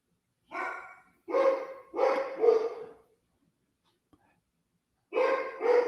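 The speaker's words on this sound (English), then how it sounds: "That's Leo barking right now" A dog barks four times in quick succession, then pauses before two more barks, close and fairly loud against a quiet room.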